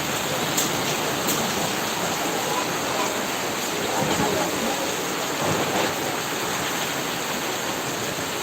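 Steady, heavy rain pours down in an unbroken hiss that stays loud throughout, with faint rumbles rolling underneath.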